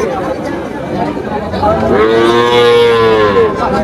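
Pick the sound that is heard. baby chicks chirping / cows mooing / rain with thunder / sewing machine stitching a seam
cows mooing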